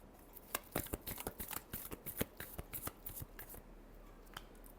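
Tarot cards being shuffled by hand, a rapid run of crisp flicking and riffling snaps over a few seconds, close and fairly quiet, with no voice.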